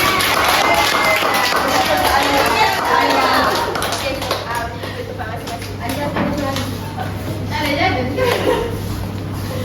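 A group of children in a classroom clapping together in a burst of rapid applause, mixed with lively young voices chattering nearby.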